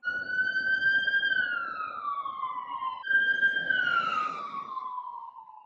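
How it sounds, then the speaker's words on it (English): An ambulance siren wails in long falling tones, repeating twice and fading as the vehicle moves along the street nearby. "That's literally just the same ambulance that just drove down the street and then up the street."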